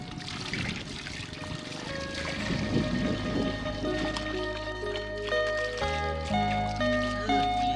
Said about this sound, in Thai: ข้าเจ้ากะล้างถ้วยล้างบวงแบบนี้ทุกคน